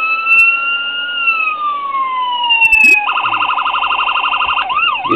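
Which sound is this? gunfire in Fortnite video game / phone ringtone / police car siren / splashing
police car siren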